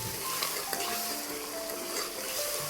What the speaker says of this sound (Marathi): आपण तयार केलेला खोबरा कांदा फक्त लसण अद्रक हे आपण तयार केलं ना ते टाकून घेऊ